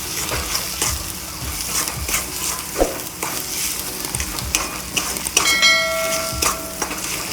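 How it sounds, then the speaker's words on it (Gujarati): Masala karela, bitter gourd frying with salt, chilli and coriander-cumin in a pan, a close, busy sizzle with repeated stirring scrapes and a brief metallic ring of the utensil against the pan. "પછી આને થોડુંક તળવા દઈશું"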